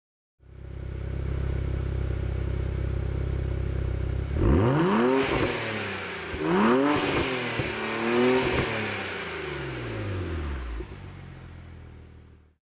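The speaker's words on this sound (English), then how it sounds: "Has a great sporty sound at high RPM" A BMW 135i fitted with a Dinan S3 exhaust with 3.5-inch tips idles, then is revved three or four times to high RPM, each sharp rise and fall of the engine heard up close and alone.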